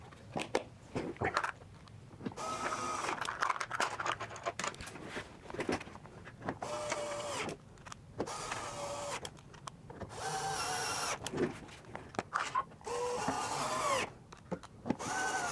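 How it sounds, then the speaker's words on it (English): Screws driven into a wooden fence with a power drill, with repeated short whirring bursts separated by pauses and small clicks of hardware being handled, fairly close and with no talking. "I'm going to get my screws out and start screwing this thing on."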